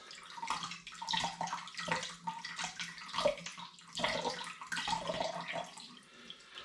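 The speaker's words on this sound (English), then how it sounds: "I'm just going to press the grain to get as much of that liquid out as I can back into this pan" Liquid is squeezed from loose, wet brewing grain back into a pan while making an all-grain German smoked beer, giving soft, close trickling and splashing in irregular bursts with no talk.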